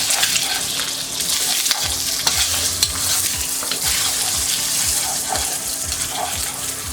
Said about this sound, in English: I'm gonna go ahead and scramble it using the ends of my spatula.